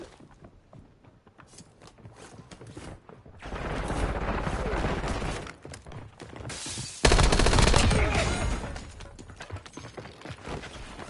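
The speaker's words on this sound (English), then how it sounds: "Taking effective fire." Gunfire in the Warzone video game: scattered shots and mechanical clicks, then sustained loud bursts of automatic fire that grow louder midway through.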